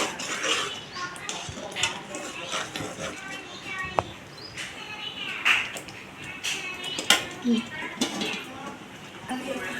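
Ginger garlic paste is stirred in a pan while cooking a prawn and okra curry, producing soft, irregular scraping and clinks of a spoon against metal, with a few sharper taps over low background noise.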